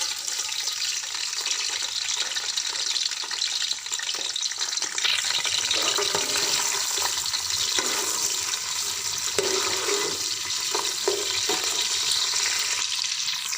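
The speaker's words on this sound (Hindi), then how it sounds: "अब मैं प्याज को थोड़ा सा फ्राई करूँगी, इसको ब्राउन करूँगी" Onions fry in oil in a cooking pot, giving a steady, loud sizzle with occasional stirring scrapes and crackles running throughout, with no voices.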